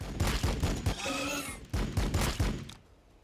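Rapid bursts of gunfire from Warhammer 40,000: Battlesector units in a campaign battle, a dense volley of sharp thuds lasting about two and a half seconds, then a brief break before a second volley that fades into quiet.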